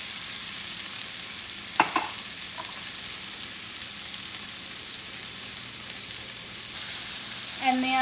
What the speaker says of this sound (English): you add the cherry tomatoes. And you're just waiting for them to burst